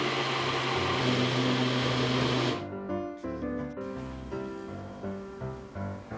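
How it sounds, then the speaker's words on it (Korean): Blender grinding a gelatin and milk mixture for tofu tiramisu, a loud steady motor whir that cuts off partway, followed by uneven mechanical tones and knocks. "이제 믹서로 곱게 갈면 됩니다."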